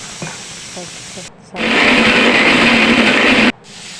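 A kitchen mixer grinder churns chiroti rava semolina with water into batter, a loud steady two-second whir that starts and stops abruptly, preceded by faint tapping and handling sounds.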